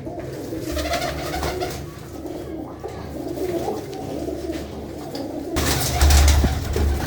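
Pigeons coo in low, throaty rolls close by, repeating throughout over a background hum, with a louder stretch near the end.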